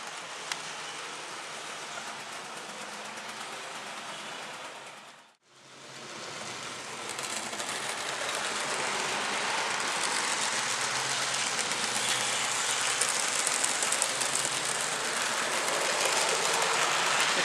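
A small model train hums and rattles steadily along a layout track, briefly cutting out before resuming with a louder, continuous whirring clatter.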